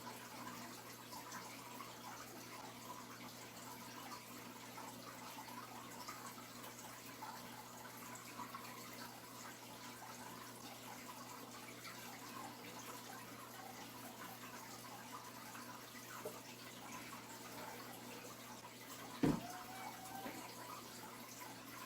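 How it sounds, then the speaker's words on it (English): Water poured onto potted Gollum jade plants, a quiet steady trickle running alone throughout, with one brief louder knock or splash near the end. "last but not least, give them a nice water."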